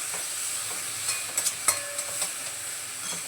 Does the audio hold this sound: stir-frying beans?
yes